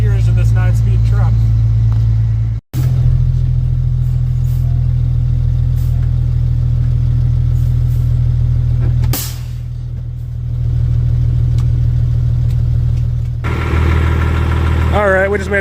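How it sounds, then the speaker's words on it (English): A 9-speed truck's engine drones loudly and close as it cruises, with a brief cut near the start and a dip and change in pitch where it shifts gears; people talk over it at times. "there's pretty much going through the gears in this 9-speed truck"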